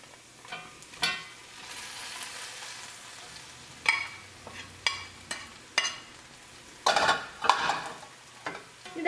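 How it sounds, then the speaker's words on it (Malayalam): Fried chicken pieces are stirred into onions in a hot oiled frying pan: a soft sizzle runs underneath while a spoon scrapes and clacks against the pan in irregular strokes. "ഇതിലേക്ക് നമ്മൾ വറുത്ത് വെച്ചേക്കുന്ന ചിക്കനും കൂടിയും ചേർത്തിട്ട് മിക്സ് ചെയ്തെടുക്കുക."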